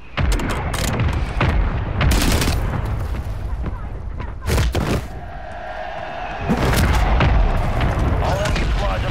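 Artillery fire mission in Call of Duty Warzone: repeated heavy booms and explosion blasts land in bursts, loud and close, mixed with gunfire and the rumble of a dense game soundscape, with radio voices talking over it.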